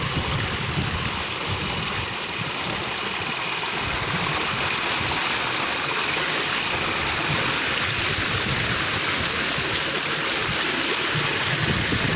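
Water gushes steadily from a tubewell in a hot rural setting, a loud, continuous close-up rush that fills the whole span without pause.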